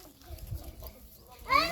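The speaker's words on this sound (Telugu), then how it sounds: "మేక." A goat bleats once near the end, a short wavering cry at close range, following a stretch of low muffled noise.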